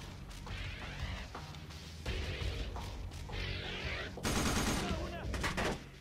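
Gunfire in the Unit 13 shooter game: repeated close bursts of automatic weapon fire with sharp cracks and a heavier blast near the end, loud and continuous over the action.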